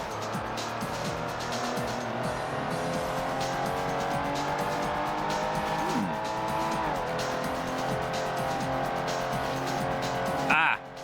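A racing car in the PS1 game Ford Racing drones steadily while its tires squeal through an oversteering slide, with pitch-shifting engine tones and a brief skid burst near the end, loud and continuous.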